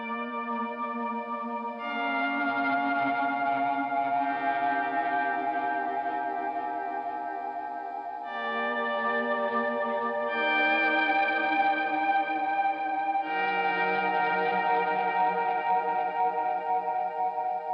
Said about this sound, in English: any other kind of delay that has a mod or filter function